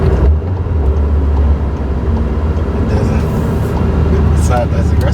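A new car cruising at ordinary speed on a road gives a steady low engine and tire hum inside the cabin, with people chatting over it.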